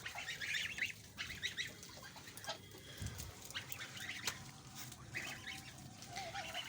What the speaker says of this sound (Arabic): بصوا الوز الصغير، 3 دول الصغيرين